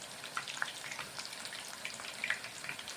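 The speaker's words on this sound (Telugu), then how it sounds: "ఈ కాడలు ఇప్పుడు వేగేది, ఇవి వేగుతున్నాయి బజ్జీలు." Spinach stalk bajjis sizzle in hot oil, a faint steady crackle broken by small pops and bubbling, with no talking.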